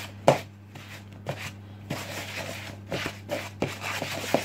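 A wooden spoon stirs cupcake batter in a bowl in irregular soft thumps and scraping strokes over a low steady hum.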